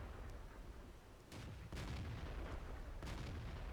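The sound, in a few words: KV-2 heavy tank howitzer firing in World of Tanks video game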